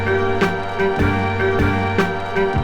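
Hip-hop beat from a sample with its high end filtered off for a warm lo-fi feel: dense, steady drum hits over a muffled tonal loop, loud and continuous, with no talking.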